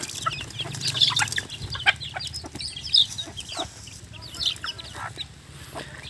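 Chickens being fed a mixed feed in winter cluck busily and close by, with overlapping calls and pecking scuffles and no talking.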